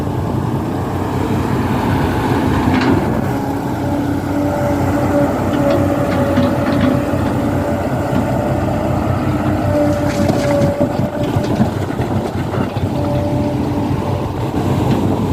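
Excavator loading a dump truck while filling a road around a pig farm, a loud continuous diesel engine drone with a steady hum and occasional clanks, close and unbroken throughout.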